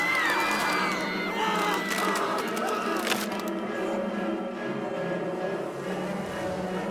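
Crowd noise from the video game Tiny Bunny, a dense, steady roar of many voices with high whistle-like tones rising over it, loud and continuous throughout.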